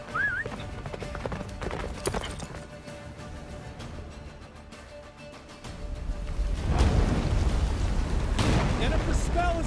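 Roach, a horse in The Witcher 3 video game, gallops with steady clip-clop hoofbeats under a rumbling wintry blizzard soundscape and game score, swelling louder in the second half.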